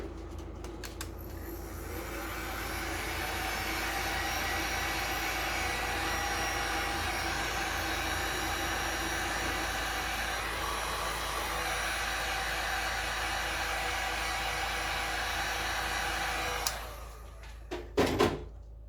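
A heat gun or hair dryer blows steadily onto a thick two-part resin mixture, a loud, constant whooshing roar that holds for most of the time, then cuts off with a few clicks and handling knocks near the end.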